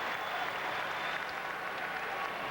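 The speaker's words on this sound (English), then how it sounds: "Lester gets a nice hand from the crowd here." Crowd at a Houston Rockets vs. LA Clippers NBA playoff game applauding basketball player Lester Conner as he leaves the floor, a steady, dense wash of clapping from a large arena audience, even and sustained throughout.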